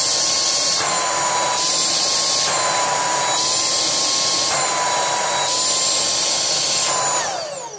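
An APOSEN H250 cordless handheld vacuum cleaner running at higher power gives a loud, steady whirring roar with a high whine, holding constant for several seconds before winding down at the very end.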